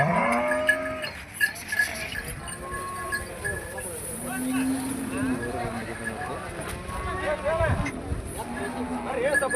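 Cows and buffaloes crowd a busy livestock market in Gadag amid dense chatter from many people, with occasional animal calls and hoof knocks mixed into the steady hubbub.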